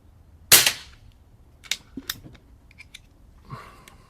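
An Umarex Zelos .25 air rifle fitted with a moderator fires one sharp, muffled crack up close, followed by a few small mechanical clicks and taps in a quiet setting.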